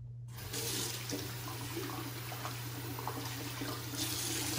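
Tap water runs steadily into a sink as shaving gear is rinsed, a close and constant splashing rush that starts abruptly after a brief silence. There is no speech.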